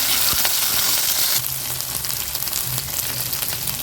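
Curry leaves and onion sauté in a pan for a cauliflower kurma, producing a continuous crackling sizzle with occasional stirring scrapes, close and steady throughout.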